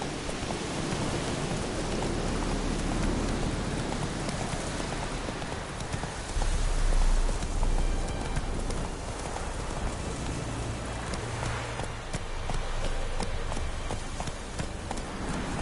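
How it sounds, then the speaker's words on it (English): Hooves pound in a steady galloping clip-clop beneath a constant hiss of heavy rain, a horse running through a downpour in the video game The Witcher 3. "Giddy up. That's it, Roach"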